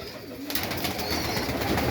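Many pigeons in a dovecote, a dense chorus of cooing and wing flutter filling the space, close and continuous, with no one talking.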